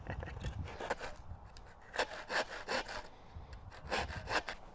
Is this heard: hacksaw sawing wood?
yes